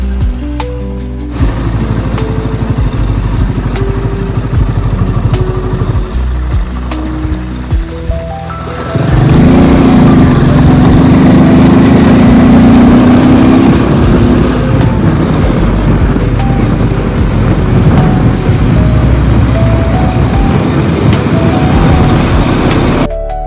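A motorcycle rides up the mountain road toward Khardung La, a steady loud engine drone with heavy wind rumble, rising to a harder, rougher roar partway through.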